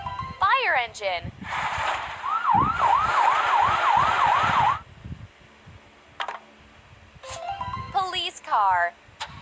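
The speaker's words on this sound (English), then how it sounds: "Fire engine." Cartoon fire engine siren in a children's car-building video game, a loud wailing tone rising and falling in quick repeated sweeps for about two seconds, set among chirpy synthetic game sound effects and short pauses.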